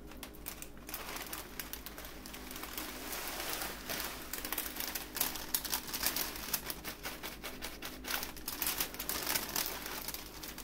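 A crinkly plastic bag of Rice Krispies cereal handled up close, soft continuous rustling and crackling at low volume with no talking.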